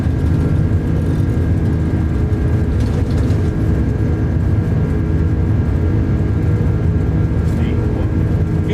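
Airbus A330 jet engines at takeoff power in a flight simulator game, a constant low roar with a faint high whine, loud and steady, with speech in the cockpit over it.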